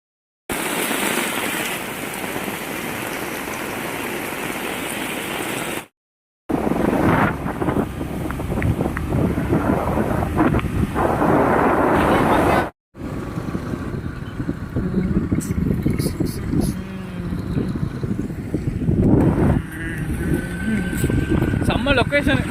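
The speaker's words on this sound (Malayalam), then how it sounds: "അപ്പോഴാണ് നല്ല മഴ പെയ്തത്." Heavy rain pours down steadily across a beach parking area at Radhanagar Beach in the Andaman Islands, a loud broadband hiss with wind gusts buffeting the microphone, broken by two brief cuts.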